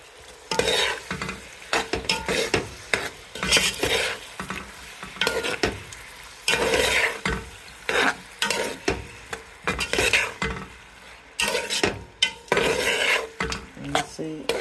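Prawns cooking in a pan, stirred with a utensil that scrapes and clatters in repeated bursts over a soft sizzle, close and fairly loud, with no talking.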